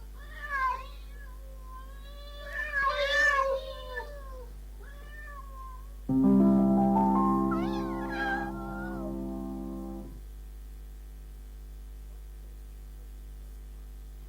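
Several cats meow in turn, with short tonal calls early on and then one long, loud drawn-out meow lasting a few seconds, close and clear with no talking.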